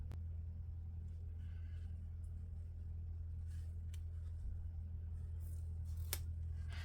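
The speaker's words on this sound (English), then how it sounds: "So I am just going to cut that little bit at the top off that's overhanging." Scissors trimming an overhanging strip of paper from a bullet journal page, a few faint brief snips over a steady low rumble of passing road traffic.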